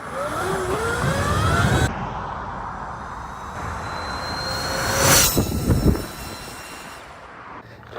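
A 14 kW electric Razor stunt bike at full throttle, a rising whine with wind rush building and then cutting off, followed by a brief louder burst and fading rolling noise; no talking.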